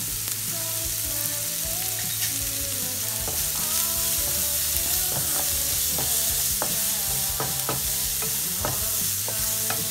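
Onion pieces frying in a pan with cumin seeds, salt and turmeric, a steady close sizzle broken by the repeated scrape and clack of a spoon stirring through the mix, with no talk.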